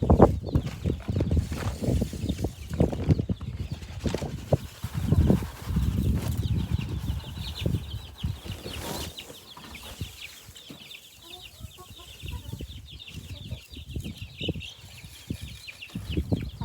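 Hens clucking and murmuring nearby in a steady, low stream of soft calls, with some rustling and a faint higher chirping in the background.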